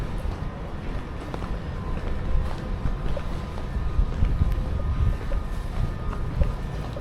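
London Underground Piccadilly Line train pulling in at a platform, a low rumbling roar that swells and settles with faint metallic ticks and clanks over steady wind-like noise, heard at moderate distance without talk.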